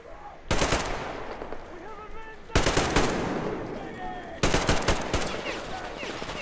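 Bandits fire on the player in Metro Exodus: three loud bursts of rapid automatic gunfire, each cutting in abruptly and trailing off into echo, with a voice talking faintly between the volleys.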